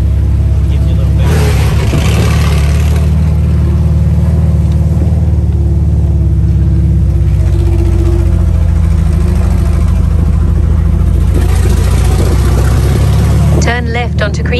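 Loud, steady low rumble of a Volkswagen camper van engine running without an exhaust, droning throughout with voices talking over it.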